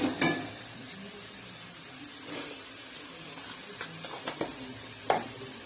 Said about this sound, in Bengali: পেঁয়াজটা একটু নাড়া করে এটা রসুন দেবো ও রসুন বাটা দিচ্ছি